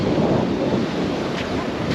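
Strong wind at a seashore roars steadily into the microphone, a loud, continuous rush with no voices.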